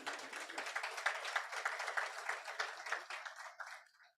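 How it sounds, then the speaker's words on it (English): Applause from an audience at a formal launch of health security reports in Kenya, a dense patter of claps that holds steady for about four seconds, moderately loud, then fades away quickly at the end. "Please stand as we applaud you, Dr. Karanja and Evelyn Kibuchi."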